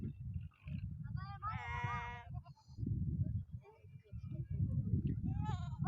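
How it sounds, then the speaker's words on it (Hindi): Goats bleat in short wavering cries while a child milks them, their calls rising over a steady murmur of nearby people talking. "ये बच्चा बकरियों से दूध निकाल रहा है।"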